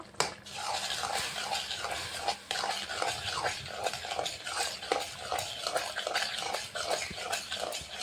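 Spinach and fenugreek greens with potato are stirred and mashed in a pan, making rhythmic scraping and squelching strokes at a steady pace under a soft cooking hiss, with a faint clink of a utensil.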